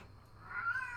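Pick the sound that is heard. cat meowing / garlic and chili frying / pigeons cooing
cat meowing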